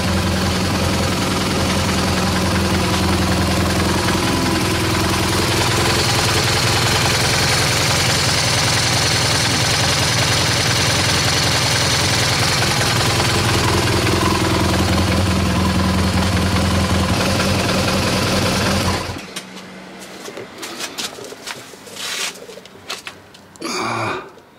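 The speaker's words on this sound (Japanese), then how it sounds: "一遍エンジンをかけて様子見てみなきゃね。" A BMW R1200GS motorcycle engine idles after a DIY oil change, a loud, steady, even rumble that runs for about nineteen seconds and then cuts off, leaving quieter scattered handling noises.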